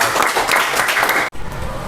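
Applause from a classroom of students fills the room as a loud, dense burst of clapping, briefly cut off, then resuming at a similar level.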